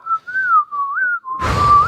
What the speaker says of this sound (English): Sometimes when you whistle, they forget that you were just talking.